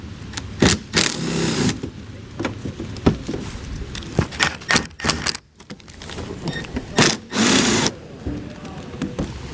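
Screws being backed out of the fabric fender liner inside the wheel well of a 2013 BMW 3 Series, giving a close run of scattered clicks, scrapes and handling knocks with no talk.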